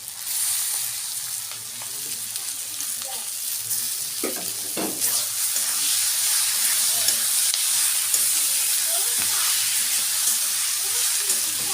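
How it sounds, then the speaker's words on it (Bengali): Chicken sizzles and fries with reddened onions in a hot pan for chicken kima, making a steady loud hiss with occasional stirring scrapes close by. "চিকেনটা দিয়ে এইভাবে ভালো করে ভেজে নেব কিছুক্ষণ"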